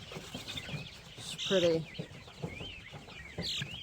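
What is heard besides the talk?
Mystic Onyx laying hen clucking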